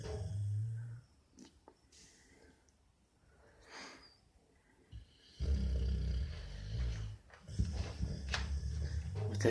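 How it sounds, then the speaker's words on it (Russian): A pit bull puppy snores in uneven, rough snorting breaths, some faint and some louder close up, with quiet rustling between them. "Он очень сильно храпит."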